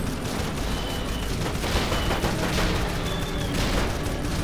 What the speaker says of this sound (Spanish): Estoy ametrallando a tiros.